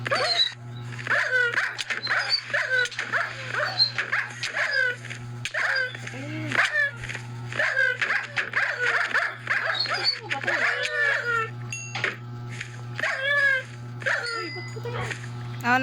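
Dogs attacking in the Minecraft video game, with quick yips, barks and whimpers scattered through the passage over a steady low game hum, while people talk excitedly throughout.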